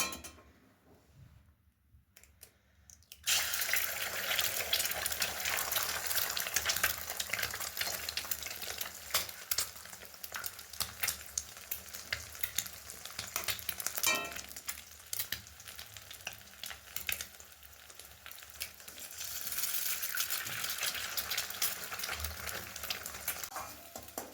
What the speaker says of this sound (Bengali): তেল গরম হয়ে গেছে, এবার আমি এর মধ্যে ডিম দুটোকে ফাটিয়ে দিয়ে দেব।